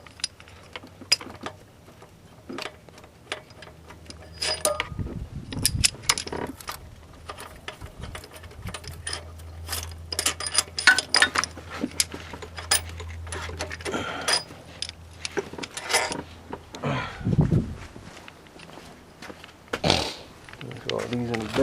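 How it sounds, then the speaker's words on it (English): Cylinder head bolts being removed from a 1999 Ford Taurus 3.0L engine, heard as a steady run of ratchet clicks, metallic clinks and tool rattles close by. "Just go ahead and take out all of these head bolts."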